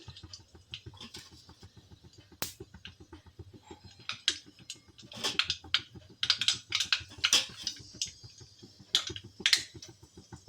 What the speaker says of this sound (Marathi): तेल गरम झालेलं आहे, त्यामध्ये टाकूया थोडेसे मोहरी टाकायचे